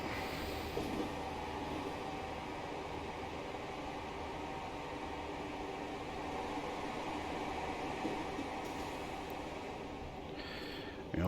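A Class 50 diesel locomotive running in Train Simulator Classic near Edinburgh Haymarket: a steady, continuous engine drone and rolling rumble, with no voices heard.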